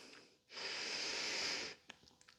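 A long, steady exhale of breath during a gentle hatha yoga flow, close and airy, lasting just over a second, followed by a few faint soft clicks and rustles.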